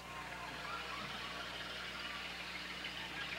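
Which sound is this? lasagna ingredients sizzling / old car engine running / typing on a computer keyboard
old car engine running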